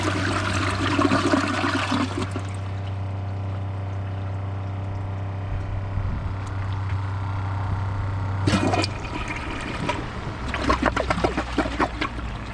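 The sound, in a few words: Glacier Bay PowerFlush and Kohler Class 5 toilets flushing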